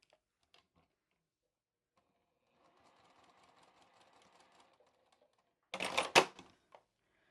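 A sewing machine stitches across a fabric bookmark to tack its elastic in place, a soft steady mechanical whirr for a couple of seconds, followed by a louder burst of rustling fabric or thread handling.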